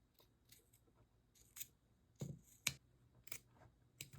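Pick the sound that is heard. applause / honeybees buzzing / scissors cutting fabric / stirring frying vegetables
scissors cutting fabric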